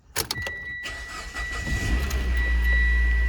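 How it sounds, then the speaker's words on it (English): A Mitsubishi Lancer from the 2008–2016 generation cranks briefly and catches, then settles into a steady, close, loud idle inside the cabin, with a faint click and rattle at the start. "let's start it and make sure it does run"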